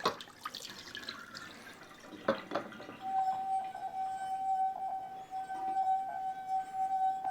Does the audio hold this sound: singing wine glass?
yes